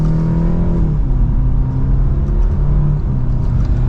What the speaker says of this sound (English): Nice mild acceleration,